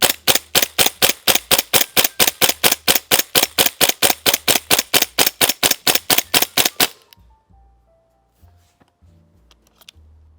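A G&G gas airsoft gun firing a full magazine in rapid, evenly spaced sharp pops, around thirty shots, loud and close, then silence with faint handling clicks.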